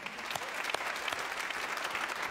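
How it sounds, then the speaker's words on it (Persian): Studio audience applause on a television show greets two guest sisters, a steady burst of clapping from many hands at moderate level, continuous and dense for a couple of seconds without talk. "تشویق کنین که بیان"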